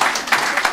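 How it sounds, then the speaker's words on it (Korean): A lecture audience at a March 1st centennial patriotic talk bursts into clapping, a brief, loud, dense round of many hands close by, with no voices over it. "동의하시면 박수 한번 치세요."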